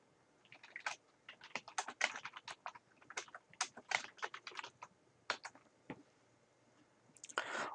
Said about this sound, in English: we're going to type in whole grains bread